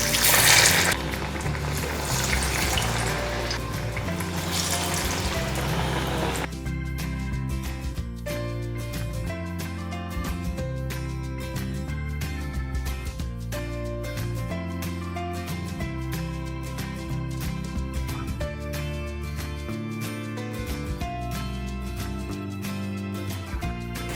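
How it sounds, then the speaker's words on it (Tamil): Medu vada lentil fritters drop into hot oil for deep-frying, giving a loud, broad sizzling hiss for about six seconds before steady background music takes over. "நம்ம ஆல்ரெடி ஷேப் பண்ண வடாஸை இதில் போட்டுடலாம்"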